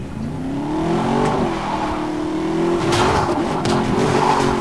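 A car in the Need For Speed video game accelerates hard, its engine revving through rising and falling gear sweeps with tire squeal and skidding, loud and close throughout.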